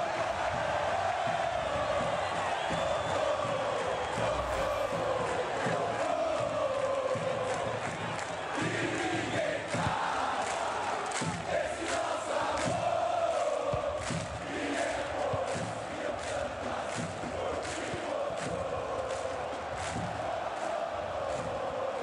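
A large stadium crowd in the football video game FIFA 23 roars and cheers continuously, swelling and easing in waves at a distance.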